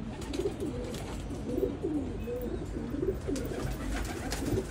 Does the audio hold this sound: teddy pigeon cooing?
yes